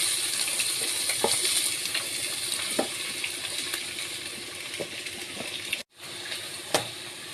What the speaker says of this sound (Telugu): ఉల్లిపాయలు వేసుకొని ఫ్రెండ్స్ గోల్డెన్ బ్రౌన్లోకి వచ్చే వరకు వేయించుకోవాలండి